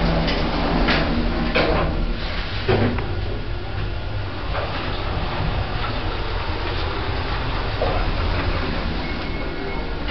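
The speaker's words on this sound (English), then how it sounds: "Doors closing." Lift doors slide shut in a shopping centre in Maidstone and the lift car travels. A steady mechanical rumble runs throughout, with a few rattling thumps and no voices.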